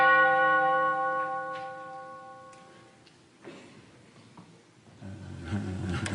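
A single resonant bell strikes once as a clock chimes the hour, ringing out loud and close, then decaying slowly into quiet, followed by a low rumbling noise.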